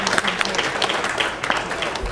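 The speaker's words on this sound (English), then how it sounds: "Yes, they do deserve a round of applause" An audience at a city council meeting applauds the Division 4A state champion basketball team from Verbum Dei High School, with steady dense clapping filling the room throughout.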